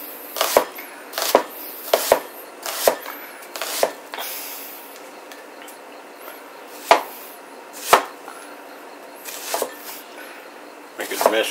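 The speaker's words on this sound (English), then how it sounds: "We're going to thinly slice this onion here." A knife thinly slices an onion on a cutting board, sharp separate chops landing irregularly, in a quick cluster and then spaced out, close and distinct over quiet background.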